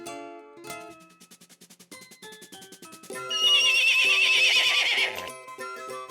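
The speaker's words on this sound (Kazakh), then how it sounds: "Ат." A cartoon horse neighs in a children's animation about farm animals: a loud, rising whinny with a shuddering, rhythmic middle, set against music, followed by another strong neigh.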